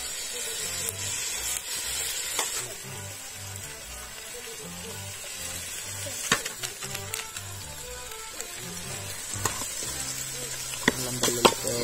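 Chicken sizzles in hot oil over a village campfire, a continuous close frying hiss broken by a few sharp crackles and stirring clinks.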